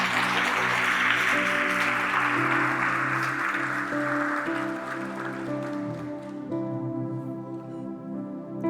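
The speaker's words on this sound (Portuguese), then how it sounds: "aplauda ao Senhor aí no seu lugar." Church congregation applauding the Lord during a Portuguese-language worship service, a steady wash of many hands clapping together throughout, with sustained music or organ tones underneath and the clapping thinning slightly toward the end.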